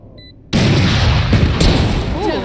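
A single heavy boom from the Marshal sniper rifle in Valorant erupts after a short quiet lead-in, loud and close, followed by a rumbling tail with a voice faintly underneath.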